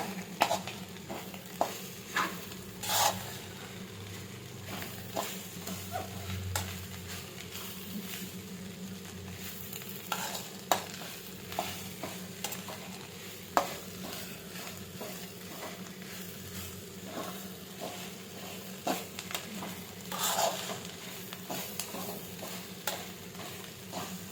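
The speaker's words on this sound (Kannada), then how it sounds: "ಹೈ ಫ್ಲೇಮ್ ಮಾಡಿಕೊಂಡು ಒಂದು 2 ಮಿನಿಟ್ಸು ಚೆನ್ನಾಗಿ ಮಿಕ್ಸ್ ಮಾಡೋಣ. ಫ್ರೈ ಮಾಡ್ತಾನೆ ಇರಬೇಕು, ಕೈ ಬಿಡಬಾರ್ದು." Egg and cabbage palya stirred and fried in a pan over a high flame: a steady sizzle runs throughout with scraping stirs and sharp clicks of the spatula at irregular moments, no talk.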